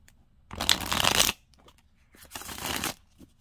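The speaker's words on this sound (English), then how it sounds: "Let me give it a quick shuffle. Easy to shuffle, like any other deck." An Oliver Hibert tarot deck being shuffled by hand, two close, crisp bursts of card riffling separated by a short pause, with no talk.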